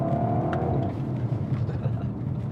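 Engine note of a 2021 Audi RS4 estate with a particulate filter, a steady low drone heard from inside the cabin, with a speaking voice over it.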